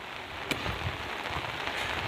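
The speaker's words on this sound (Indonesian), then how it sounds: "Hujan ini kan nikmat." Heavy rain falls steadily in a village in Solok Regency, a dense, even hiss of drops with a few sharper taps, close and continuous with no voices.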